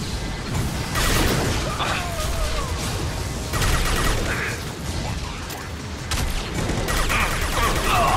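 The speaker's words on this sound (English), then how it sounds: "That's a lot of fucking rockets." Rocket fire aimed at the player in the video game Mass Effect 2, a dense barrage of launches, whooshes and impacts mixed with mechanical clatter and gunfire that stays loud and continuous throughout.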